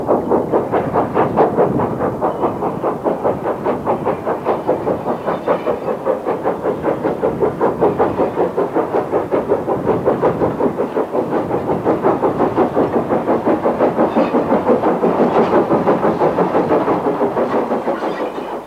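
A preserved Lancashire and Yorkshire 0-6-0 steam locomotive works hard nearby, its rapid rhythmic chuffing pulsing loud and steady throughout with rolling rail noise underneath and no voices.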